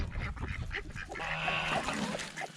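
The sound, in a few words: ducks quacking while being fed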